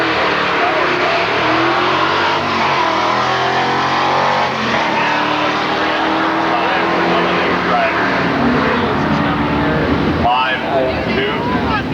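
A 1969 Ford Mustang with a 428 engine roars down the drag strip at Milan Dragway, a loud sustained engine howl with shifting pitch, an announcer talking over it throughout.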